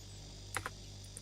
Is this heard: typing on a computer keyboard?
yes